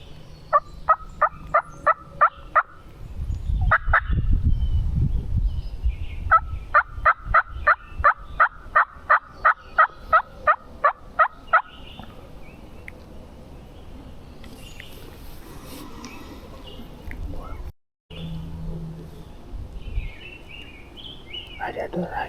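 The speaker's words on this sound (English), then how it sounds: "Let him gobble again." A wild turkey gobbles near a cabin during a hunt, with rapid series of sharp, rattling gobble pulses repeated in several bouts, then faint whispered talk and quiet rustling.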